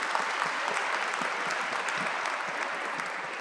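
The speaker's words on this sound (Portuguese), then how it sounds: "mais uma salva de palmas aos 3," Conference audience applauding a leadership panel, a full, sustained burst of many hands clapping at moderate distance, even and unbroken throughout with no speech.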